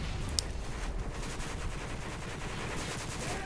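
Gunfire in Modern Warfare 3 multiplayer, faint bursts of automatic fire rattling steadily in the distance with one sharp crack near the start, and no voices.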